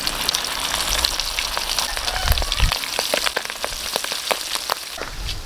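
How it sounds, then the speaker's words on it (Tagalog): Floured adobo fries in hot oil with a loud, continuous, close sizzle and dense crackling pops that carry steadily throughout. "Piprito na natin yan."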